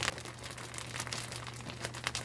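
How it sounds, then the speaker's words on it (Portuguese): Mushroom substrate being gently kneaded inside a sealed plastic grow bag for liquid culture cultivation, a continuous close rustle of crinkling plastic with soft crunching bursts and a steady low hum underneath. "Trabalhamos suavemente em direção à extremidade do saco, e gentilmente retiramos o substrato dessa área e o amassamos um pouco."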